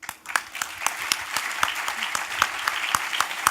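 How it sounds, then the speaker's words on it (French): An audience claps for the independent jury at the Belfius press prize award ceremony, with scattered, distinct hand claps ringing out at a steady pace for several seconds. "je propose même de les applaudir."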